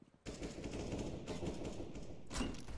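Gunfire in Counter-Strike: Global Offensive during a matchmaking round, a quiet, sustained rattle of rapid shots starting abruptly and running on with a brief louder burst near the end.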